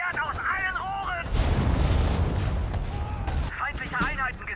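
Gunshots and artillery fire thud and crack in the Sudden Strike 4 video game, with a dense burst in the middle. Game unit voices speak before and after the barrage.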